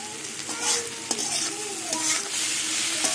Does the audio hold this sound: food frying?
yes